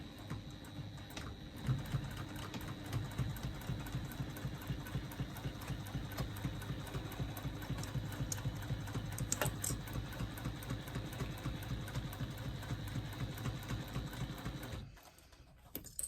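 A sewing machine stitches a bag lining in a long, steady run of rapid mechanical whirring and needle chatter that stops abruptly near the end, leaving near silence.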